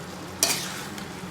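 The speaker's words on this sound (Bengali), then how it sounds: "এবার এর মধ্যে আমি চিংড়ি মাছ ভাজাগুলো দিয়ে দেবো, দিয়ে এটার সাথে ভালো করে মিক্সড করে নেব।" Fried prawns are stirred into a sizzling potato curry in a pan, with one sharp scrape of the spoon followed by a softer sizzle.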